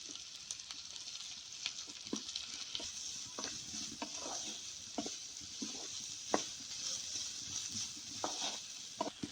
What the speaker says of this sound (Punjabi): ਤੇ ਹੁਣ ਆਪਾਂ ਇੱਥੇ ਪਿਆਜ਼ਾਂ ਨੂੰ ਜ਼ਿਆਦਾ ਨਹੀਂ ਭੁੰਨਣਾ